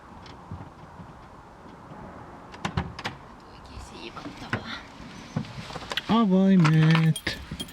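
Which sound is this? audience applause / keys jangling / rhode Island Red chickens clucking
keys jangling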